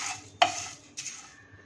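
Dabeli masala spices and sugar being stirred and dry-roasted in a hot pan, with two distinct scraping sweeps of the spoon against the pan, close and fairly quiet.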